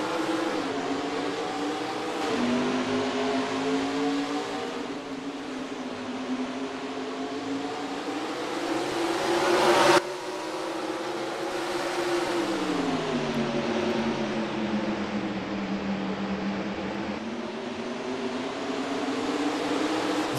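Race car engines roar together at the green flag in the NR2003 racing game, a 30-lap ARCA Series event at Myrtle Beach; a steady, loud droning pack with rising and falling engine pitch throughout.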